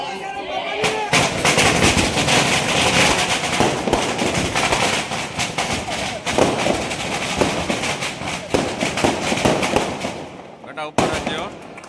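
Firecrackers crackle continuously outdoors at a hostel inauguration ceremony in Rajkot, a dense, loud barrage of rapid pops lasting several seconds before stopping, followed by a few scattered bangs.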